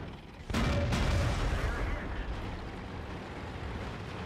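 Tank cannon fire in World of Tanks on the Himmelsdorf map, one heavy booming shot from a Type 59 tank that rings out and decays into a long rumbling tail over low engine noise.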